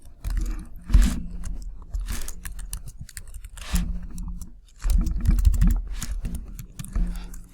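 Typing on a computer keyboard, close and clear: bursts of rapid key clacks with brief pauses between runs, no talking over it.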